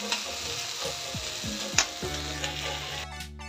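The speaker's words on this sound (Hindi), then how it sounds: "जीरा सरसों डाले बहुत हल्का भूनना है, जले मत तीसरे वाला। और डालो आलू ला, आलू बहुत टाइम से लगते भून जाए बर।" Potatoes frying in a pan with cumin and mustard seeds, a moderate sizzle with a few stirring scrapes, close by, ending abruptly.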